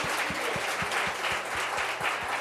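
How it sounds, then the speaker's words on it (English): A round of applause from the audience at a women-in-leadership talk: steady, dense clapping fills the whole stretch at a moderate distance, with a faint rhythmic low thump beneath it. "Let's give them a round of applause."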